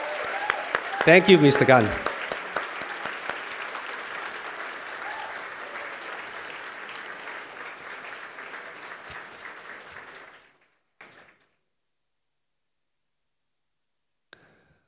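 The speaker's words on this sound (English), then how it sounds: "shall we give him a round of applause, Mr. Casey Gunn from Hong Leong" Audience applause at a gala ball, loud scattered clapping at first that settles into steady applause for about ten seconds before stopping abruptly, followed by brief speech and near silence.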